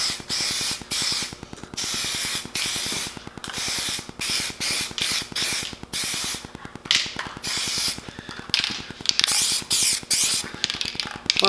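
Aerosol spray paint on the rocker panels and cab corners of a rolled Chevy Silverado truck: close, loud hissing bursts of varied length, separated by brief pauses and clicks from the can.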